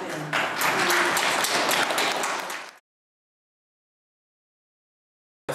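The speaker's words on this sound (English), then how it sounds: "just one last round of applause" Audience applause from a gathered crowd, loud and dense for nearly three seconds before cutting off abruptly into silence.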